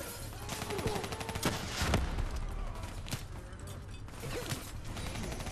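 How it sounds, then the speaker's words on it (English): Enemy gunfire in the shooter Call of Duty: Black Ops 3, irregular bursts of rapid shots and sharp cracks mixed with mechanical clatter, continuous and busy across the clip. "why are the people behind me shooting me?"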